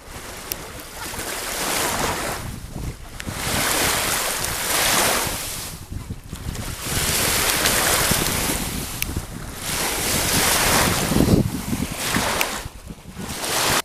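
Surf rolls onto Maenam beach on Koh Samui in slow, rhythmic swells that rise and fall every few seconds, mixed with steady wind buffeting the microphone, with no voices.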